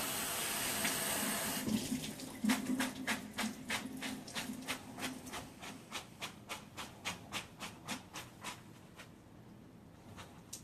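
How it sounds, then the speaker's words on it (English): Noodles are drained in a kitchen sink, with running tap water rushing at first, then a steady train of rhythmic gurgling pulses that slowly fade, quiet and close. "In my sink, I'm going to drain them."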